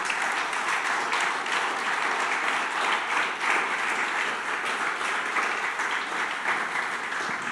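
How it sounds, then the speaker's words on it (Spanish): A church congregation gives loud, sustained applause, a full dense roar of many hands clapping at a steady level throughout, with no talk over it. "¿Por qué no le das tu mejor aplauso?"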